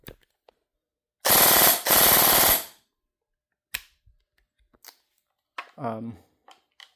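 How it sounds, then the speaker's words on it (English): An airsoft Vector gun fires a rapid, loud full-auto burst, a short pause, then a second burst. Scattered clicks of handling follow, along with a brief vocal sound. "selectors are set to binary and full auto."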